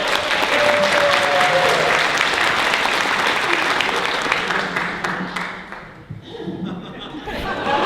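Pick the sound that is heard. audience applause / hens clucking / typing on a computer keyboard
audience applause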